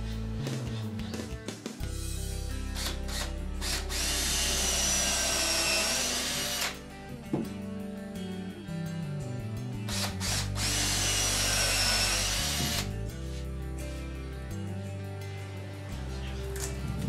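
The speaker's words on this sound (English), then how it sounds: "Now we're going to drill holes to put our French cleat on." Power drill boring holes in wood to mount a French cleat behind a window mirror, with long sustained high whining bursts, rising and falling motor pitch, and short pauses between holes, close and loud.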